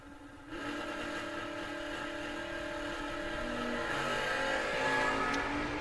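Drag racing cars, including a 1970 Chevelle, with a loud engine roar that jumps up suddenly and then holds a sustained rising drone as they accelerate down the strip.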